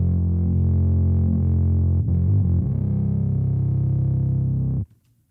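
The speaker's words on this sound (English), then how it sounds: "But you also have fuzz, if this is more your style." Bass guitar through a fuzz distortion pedal: a thick, darker, woolly distorted tone sustained for nearly five seconds with a short wobble in the middle, then stopping cleanly.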